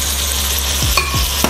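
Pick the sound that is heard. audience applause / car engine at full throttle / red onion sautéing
red onion sautéing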